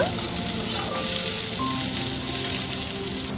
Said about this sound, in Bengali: এরপরে দিয়ে দেবো একটা কুচানো পেঁয়াজ এটা দেওয়ার পরেও একটু নাড়াচাড়া করে আমি ভেজে নেব